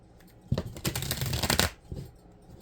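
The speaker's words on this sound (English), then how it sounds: "Why can't I shuffle these cards today?" Playing cards being shuffled by hand, a short burst of riffling flutter lasting about a second, close and fairly loud, then a brief softer rustle.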